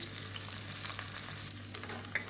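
Onions sauté in a pan for a vegetarian salna curry, giving a soft, continuous sizzle and crackle of frying at low volume with no talking.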